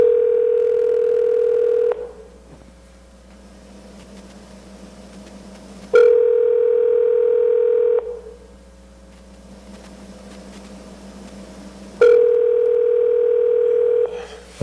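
An unanswered telephone call rings through a handset: three long, steady, loud ringback tones about six seconds apart, with quiet line hiss between them and no voices.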